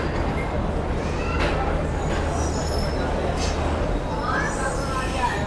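The Shalimar Express train slowing to a stop at Khanewal Junction, a steady rumbling rail roar heard from inside the car with faint high wheel squeals rising near the end.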